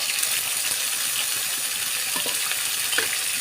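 A spice paste of ground ginger, onion, garlic, cumin and mustard fries in hot oil with a steady, close hiss, and a few faint clinks from the pan sound through.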